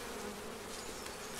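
Honey bees swarming over a hive frame make a dense, continuous buzzing drone, close and steady throughout with no pauses.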